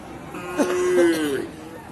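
A crossbred cow at a cattle market lets out a single drawn-out moo, near and fairly loud, over faint background chatter.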